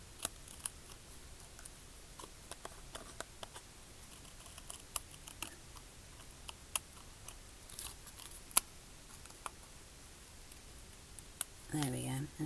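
Scissors trimming paper bits that poke over the edge of a papercraft piece, heard as quiet, scattered close snips and clicks, with a louder rustle near the end.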